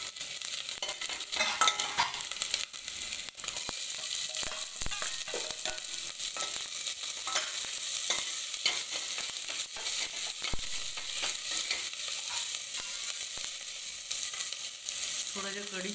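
Garlic, ginger and onion sizzle and fry in a pan, with frequent scraping stirs of a spoon against the metal over a continuous soft hiss, no talking.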